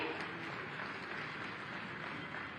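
A crowd applauding steadily at a civic conference in Mathura, a dense wash of many hands clapping at even loudness throughout, with no voices standing out.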